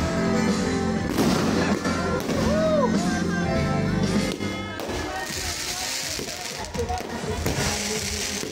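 Fireworks go off during a best man speech at a wedding in Tagaytay, with sharp crackling bursts and pops mixed under a steady bed of talk and music that carries through the whole stretch.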